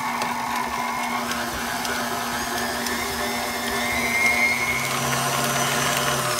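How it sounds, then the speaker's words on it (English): A stand mixer fitted with a paddle beats roasted sweet potatoes on medium speed, giving a steady motor whine with a rattling churn that swells slightly toward the end, alone without talk. "I'm going to beat this on medium speed for about 1 minute"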